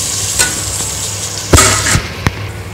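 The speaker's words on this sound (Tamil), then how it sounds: "மல்லித்தூள், கரம் மசாலா பவுடர் எல்லாம் போட்டு நல்லா வதக்கலாம்" Spices with coriander and garam masala powder being sautéed in a pan for a chicken leg piece biryani, a loud close sizzle broken by a few sharp scraping stirs and clanks.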